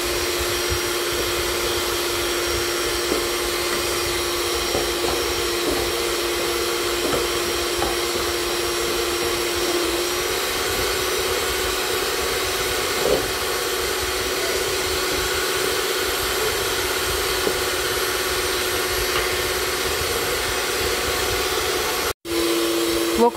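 An electric mixer beats sponge cake batter (pão de ló) in a home kitchen, a steady, loud whirring hum running almost without change, then cutting out briefly near the end.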